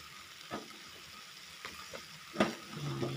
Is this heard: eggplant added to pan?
yes